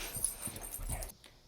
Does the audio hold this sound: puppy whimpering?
yes